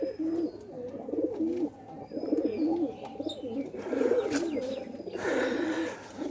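Pigeons coo in soft, repeated throaty rolls, close by and fairly loud, with a few faint chirps and light rustling in between.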